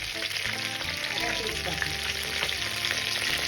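Whole cumin and a cracked large cardamom crackle and sizzle in hot oil, a dense, continuous frying hiss with small pops throughout and no speech.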